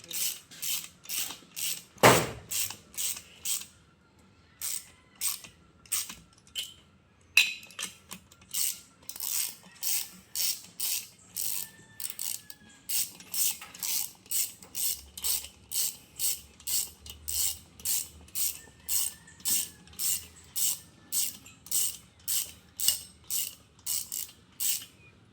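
Ratchet clicking steadily while bolts are tightened on a Kawasaki HD3 racer engine, a long run of sharp, evenly spaced clicks close by with brief pauses, one louder knock early on.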